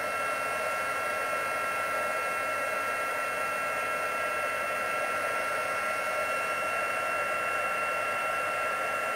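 A heat tool for melting gilding flakes runs steadily at close range, giving a continuous loud whooshing blower drone with a high whine that holds unchanged throughout, with no talking.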